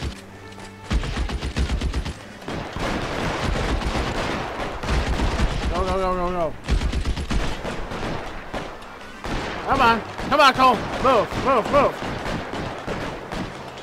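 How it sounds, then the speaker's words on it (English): Gunfire in the video game L.A. Noire crackles in repeated bursts of shots throughout a tense shootout, mixed with game music and characters shouting commands over the noise. "All this gunfire"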